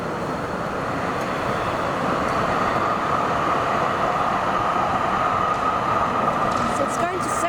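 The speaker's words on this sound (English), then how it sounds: "this is a nice spot to view the trains." Train passing through Jolimont MCG station in Melbourne, a steady loud rumble of wheels on rails throughout, close by.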